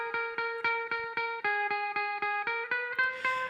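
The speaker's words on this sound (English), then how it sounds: "So I'm going to play it without the phase tripper." Electric guitar played dry with no phaser pedal engaged, a steady run of evenly picked notes, about four per second, with bright sustained harmonics, loud and close with no talking.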